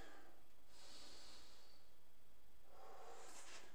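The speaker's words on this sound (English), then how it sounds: "Take some deep breaths" Deep breathing during a bodyweight workout, two slow, airy breaths, an inhale and then a longer exhale, faint and close with low background hiss and no talking.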